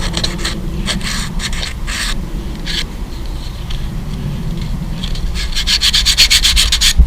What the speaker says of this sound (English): sanding is not really a long drawn out process.